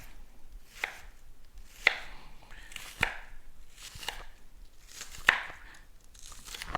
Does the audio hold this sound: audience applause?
no